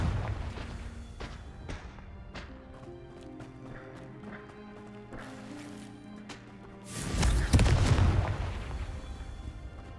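Confringo fire spells from Hogwarts Legacy go off as a run of short impacts and crackles over light footsteps, then one bigger, louder blast rumbles near the end, with no voices.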